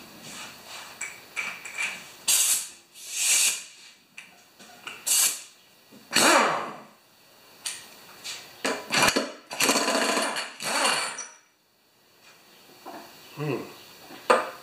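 Pneumatic air tools work on the flywheel of a Brute lawn mower with a Briggs engine, firing in short loud bursts of rattling and whirring with brief pauses between them, close by.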